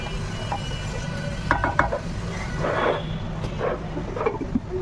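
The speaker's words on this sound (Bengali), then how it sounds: "তো আলুটা দিয়ে আর একটু ভালো করে কষিয়ে নেব।" Potatoes are sautéed with duck meat in a pan, with faint scraping, stirring and occasional clinks of a utensil against the pan over a low background, and no talking.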